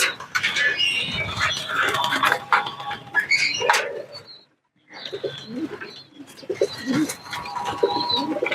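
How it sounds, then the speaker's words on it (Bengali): A crowd of hungry pigeons coo and flutter close by in busy, overlapping bursts, pausing briefly midway before the chatter resumes. "আপনারা দেখতে পাচ্ছেন সবগুলা কবুতর ক্ষুধার জন্য পাগল হয়ে আছে"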